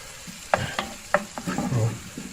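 Onions sweating down in a pan for a vegetable curry, with a soft sizzle under several sharp clinks and scrapes of a utensil stirring against the pan, close by, and no talking.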